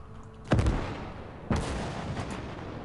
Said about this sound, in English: Medium artillery.